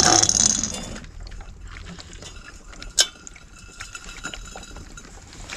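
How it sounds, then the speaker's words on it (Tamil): Air bubbles gurgle through water inside a can on a homemade petrol-to-gas emergency stove. There is a brief splashy burst at the start, then faint, irregular bubbling and trickling with a single sharp pop midway. "இங்கே பாருங்கள் அப்படியே பபுள்ஸ் இங்கே எப்படி கிரியேட் ஆகி வருது"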